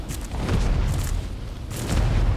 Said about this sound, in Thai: มันปาระเบิดไฟใส่อะ